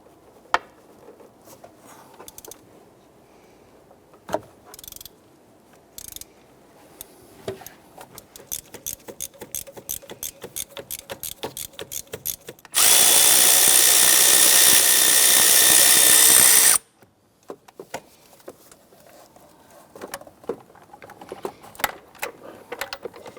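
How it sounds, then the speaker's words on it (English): A ratchet driving a 14mm deep socket on an extension to loosen a starter bolt on a 1992-1996 Toyota Camry 2.2L, rapid irregular clicking bursts around a few seconds of loud steady noise, then scattered clicks. "We're going to go ahead and use our deep socket with an extension and our ratchet."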